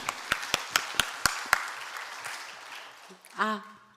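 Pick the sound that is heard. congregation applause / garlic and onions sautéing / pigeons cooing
congregation applause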